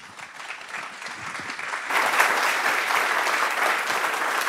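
An audience at the Education + AI 2024 Summit claps, a dense steady patter that swells louder about halfway through and holds, close and full.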